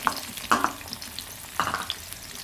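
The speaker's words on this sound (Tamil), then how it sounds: "இந்த வெங்காயத்தை அதில் போட்டுடலாம்" Sliced onions sizzling in hot oil in a pan for a gongura chicken dish, a steady frying hiss with a few spoon scrapes and clicks, close and moderately loud.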